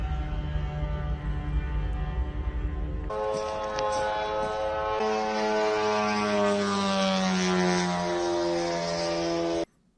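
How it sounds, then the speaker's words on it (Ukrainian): Ukrainian FP-1 attack drone in flight, a loud steady propeller-engine drone with a strong buzzing harmonic whine that shifts in pitch as it passes close by, alone without talk. "Наймовірніше, що це дрон наш український FP-1"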